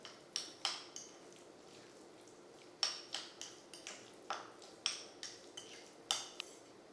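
A utensil clinks and scrapes against a bowl while guacamole is mixed with pepper and seasoned salt. The taps come in irregular bursts, close and fairly light, with no talking.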